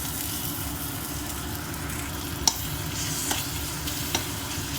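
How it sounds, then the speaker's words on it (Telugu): Ginger garlic paste sizzles steadily in a hot pan for egg curry, a constant loud frying hiss broken by a few soft scrapes of a spoon stirring it. "అల్లం వెల్లుల్లి పేస్ట్ కలిపేసుకుంటున్నామండి"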